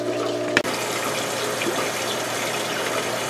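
Water pours steadily into a fish tank in a fishroom during a water change, a constant near rushing gush with one brief knock near the start and no talking.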